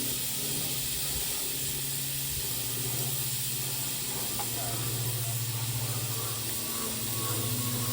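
Prawns sizzle steadily in hot oil in a pan for a garlic chilli prawn pasta, a continuous close hiss with no clear break where they are flipped.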